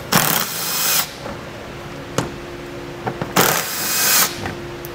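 A 10 mm socket works fasteners loose on the rear fascia of a 2017 Mercedes-Benz, with two bursts of ratcheting or spinning tool noise separated by sharp clicks and knocks, close and fairly loud.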